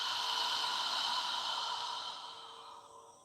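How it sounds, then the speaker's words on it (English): A long, deep exhale during a yoga breathing exercise, a soft breathy rush close to the microphone that fades out over a few seconds. "Just focus on filling your lungs with air and squeezing out the air."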